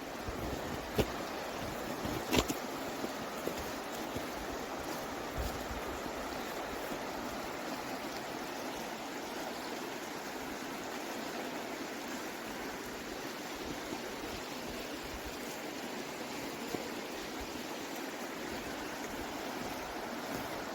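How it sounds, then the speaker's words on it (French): Wilson Falls on the Rivière du Nord, in snow, roars as a steady broadband rush of falling and flowing water, continuous and even throughout with no voices. "Et là-bas, c'est les chutes de Wilson."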